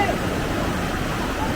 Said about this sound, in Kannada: ಇಲ್ಲಿ ಪಕ್ಕದಲ್ಲಿ ನದಿ ಹರಿತಾ ಇದೆ.